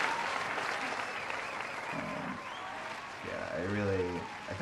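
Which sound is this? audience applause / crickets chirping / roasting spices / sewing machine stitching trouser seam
audience applause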